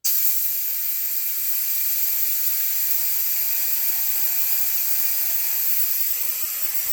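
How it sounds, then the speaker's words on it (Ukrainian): A homemade air compressor vents air at about 4 atmospheres, a loud, steady high-pitched hiss that holds constant and close throughout, with no speech. "Зараз вімкнули, спускаю воздух."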